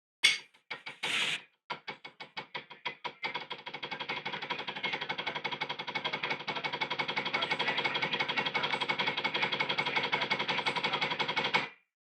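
Rapid sticking on a practice pad: a few separate taps, then a dense, steady stream of quick strokes for about ten seconds before stopping abruptly.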